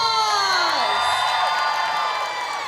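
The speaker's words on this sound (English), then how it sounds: "Give a big round of applause." A convention crowd at a masquerade cheers, whoops and shouts for cosplayers on stage, loud sustained vocal cheering with rising and falling voices and little distinct clapping.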